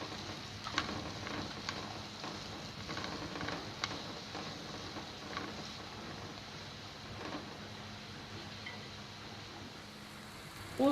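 Leeks cook in a pot for a leek and pumpkin soup, a soft steady sizzle with faint crackles and ticks, quiet and continuous throughout.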